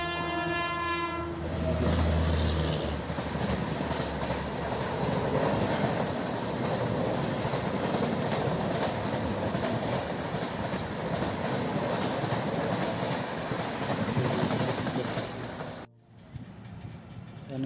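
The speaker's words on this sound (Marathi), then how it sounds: "इकडून एक रेल्वे आली, पुणे साईडने रेल्वे आली होती." A passenger train from the Pune side near Manjari sounds a long horn blast at the start, then rumbles and clatters past steadily at close range before cutting off abruptly near the end.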